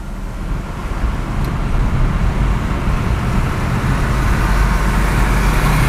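With the window of a Suzuki Grand Vitara opened, steady loud road traffic of passing cars and motorbikes rushes past as a continuous broadband roar, with no talk.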